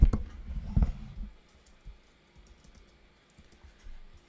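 Keys tapped on a computer keyboard while entering a command in Rhino 3D modeling software: a short burst of close, brisk clicks, then sparse, quieter single taps, with no voices.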